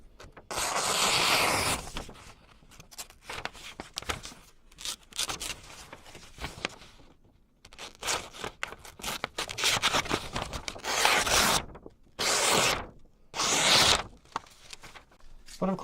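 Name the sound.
sharp wood chisel slicing a sheet of paper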